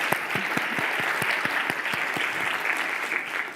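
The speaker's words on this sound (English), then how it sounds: "let's show our appreciation with a big round of applause for all of our amazing volunteers" An audience applauds volunteers at a national youth entrepreneurship event, a sustained wash of many hands clapping, with a few sharper, nearer claps standing out at the start.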